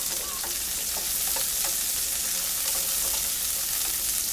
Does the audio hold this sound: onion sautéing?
yes